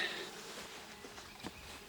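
A faint, steady insect buzz of honeybees at the hive hums throughout, soft and continuous with slight swells.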